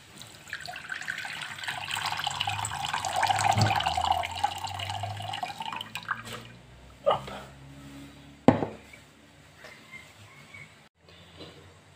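Water pours steadily for several seconds, then stops, followed by a few sharp knocks and clinks of a container being set down.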